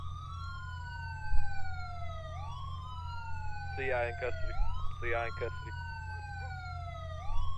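Police car sirens wailing in a roleplay video game, several overlapping sweeping tones rising and falling steadily throughout, with a low engine hum beneath and a voice speaking briefly over them midway.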